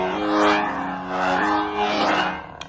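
KR Emperor lightsaber swung on, a roaring ignition with harmonic hum that swells and sweeps in repeated whooshing waves, loud and close, ending with a short sharp click.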